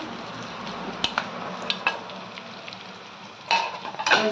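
Coriander seeds and cumin roasting in a pan, with a soft continuous sizzle under scraping stirs and a few sharp clinks of a utensil against the metal, louder toward the end.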